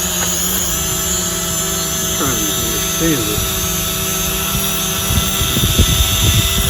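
A drone's propellers whine in a steady, high buzz close to the microphone while a person talks over it.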